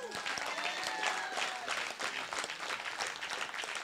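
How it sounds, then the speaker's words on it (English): Church congregation clapping together during a sermon, a loud steady burst of many hands with a few faint tonal traces like distant voices or instruments underneath, continuing throughout. "Come on, somebody give God a clap offering."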